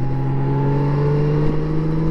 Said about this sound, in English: Man, you just crank that throttle and you are going.